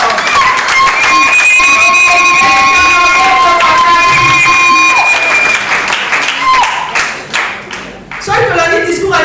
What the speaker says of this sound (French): Et nous allons acclamer bien fort